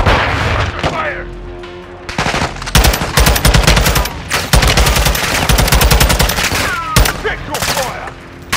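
Heavy automatic gunfire in a Call of Duty Modern Warfare 2 prison-break battle, loud sustained bursts of machine-gun fire broken by short pauses and sharp single shots, with shouted voices briefly heard over it.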